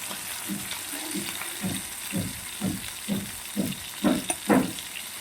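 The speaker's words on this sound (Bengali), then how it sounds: "মাছগুলোকে ভালোভাবে ভেজে নেবো খুব ডিপ ফ্রাই হবে একটু স্যালো ফ্রাই করে ভেজে নিলেই হয়ে যাবে" Pomfret fish shallow frying in oil in a pan, a steady sizzle broken by a regular series of louder crackling bursts about every half second that grow stronger toward the end, close and moderately loud with no talking.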